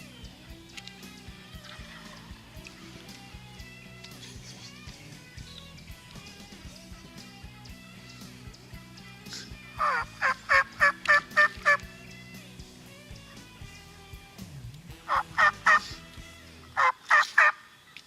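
A wild turkey tom in full strut in a field gobbles in loud bursts: a rapid run of gobbles around the middle, then two shorter volleys near the end, over a steady background drone.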